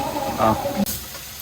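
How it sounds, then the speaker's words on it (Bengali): Masala frying in a pan with oil, a soft steady sizzle and a brief stirring scrape over about a second and a half, with a hint of voice in the background. "ভালোভাবে আমার মশলাটা কষানো হয়ে গেছে"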